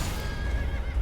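Torrent, the spectral steed in Elden Ring Shadow of the Erdtree, lets out a loud, close whinny over a steady low rumble of game ambience, with no voices.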